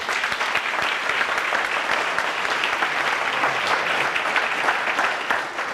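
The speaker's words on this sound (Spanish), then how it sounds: "un aplauso también para Javi" A large crowd at a political gathering in Esquel claps steadily and loudly for the full stretch, a dense, even wash of applause with no voices over it.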